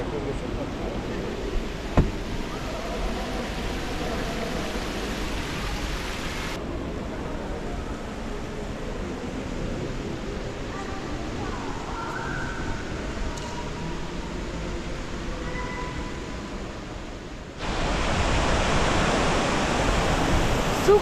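A 36-metre-high waterfall, the Sous Coutelo cascade, roaring as a steady, broad rush of falling water that swells louder near the end, with a voice speaking faintly over it.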